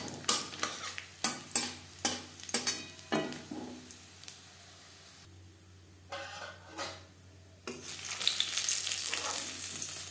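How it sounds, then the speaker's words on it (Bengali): Lentil dumplings (bori) frying in hot mustard oil, stirred with a spatula that makes regular scraping clacks against the pan, followed by a steady close sizzle that swells louder toward the end. "বড়ি ভেজে নেওয়া হয়ে গেছে।"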